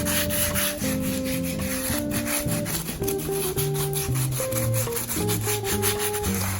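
Steady back-and-forth rubbing of sandpaper along countertop edges during a DIY makeover, close and fairly quiet, with sustained tonal music running underneath.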